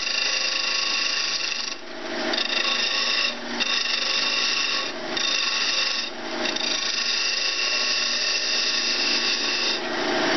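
A hand tool rasps steadily against the wooden tip of a handmade drumstick, with continuous gritty scraping strokes that pause briefly every second or two. The strokes are close and loud, and no one speaks.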